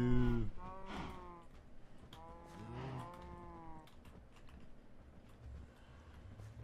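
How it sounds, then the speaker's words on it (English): A cow in the Minecraft video game gives two drawn-out moos in close succession, fairly clear against a quiet background with a few faint clicks afterward. "Moo."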